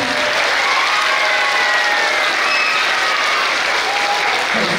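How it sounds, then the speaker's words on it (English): Loud, dense applause from a school assembly of children in a gym-like hall, a steady roar of clapping with some faint cheering and voices mixed in. "Can we give Miss A and Miss Kennedy and the PBIS team a big round of applause?"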